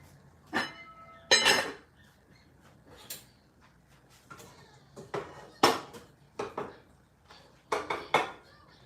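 A big metal pot clanks onto a kitchen stove amid a string of close knocks and clinks of cookware, irregular and moderately loud, with no talking.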